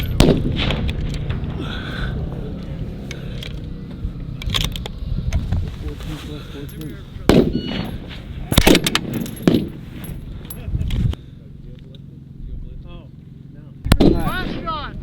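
Rifle shots ring out at a long-range PRS shooting match at White Oak Creek, sharp loud cracks spaced seconds apart with outdoor echo, while people talk between them.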